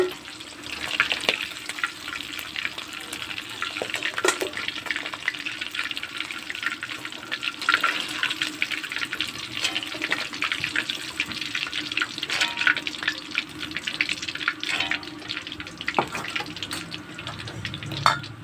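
Bhetki fish bones frying in oil, a continuous bright crackling sizzle running steadily and close throughout, with occasional sharp pops and faint background sounds.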